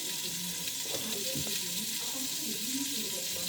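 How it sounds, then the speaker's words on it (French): Sausages and peppers simmering under a lid in a pot for sausages with cabbage, a steady soft bubbling sizzle with faint scattered pops, even and close throughout. "On couvre. On laisse mijoter avant de rajouter notre chou."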